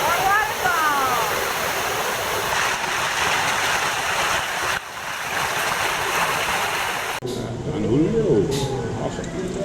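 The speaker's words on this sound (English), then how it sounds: "More waterfalls." Waterfalls pouring into a resort pool in the Riviera Maya give a constant, loud rushing roar that shifts and thins near the end, with faint voices mixed in.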